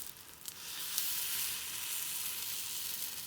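A pancake omelet sizzles steadily in a hot pan, a close, continuous crackling hiss with a few sharper pops near the start and no voices.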